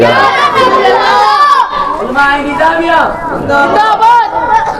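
A large crowd at a religious gathering for Eid Milad un Nabi roars back in loud unison after a takbir call, overlapping shouted voices rising and falling in waves for several seconds.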